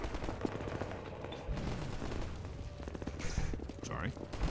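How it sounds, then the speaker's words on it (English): Gunfire in the video game Half-Life 2 crackles steadily in the background, dense repeated shots blending with game ambience at moderate level throughout. "While there's some gunfire in the background"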